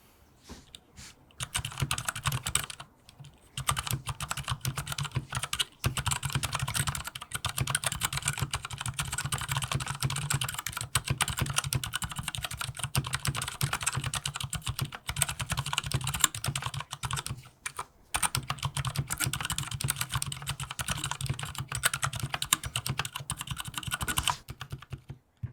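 Steady typing on a Durgod Hades 68 keyboard, a 65% mechanical board, with dense, continuous keystrokes clattering up close for about twenty-three seconds and only a couple of short pauses.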